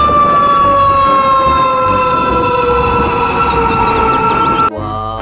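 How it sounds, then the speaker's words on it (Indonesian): A toy fire truck's siren wails loud and close in a steady, sustained electronic tone that cuts off abruptly near the end, leaving a quieter buzz beneath it, with no talking. "Ini ada mobil pemadam kebakaran teman-teman."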